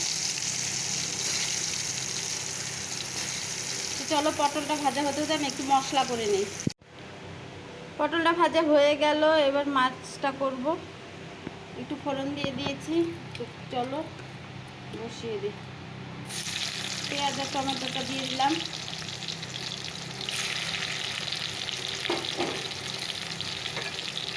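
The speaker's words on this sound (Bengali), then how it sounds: "একটু পটল কেটে নিলাম পটল ভাজি করব" Sliced pointed gourd (potol) frying in oil left from frying bitter gourd crackles with a steady hiss, while a person talks over it for long stretches, and the sizzle comes through more clearly between the voices.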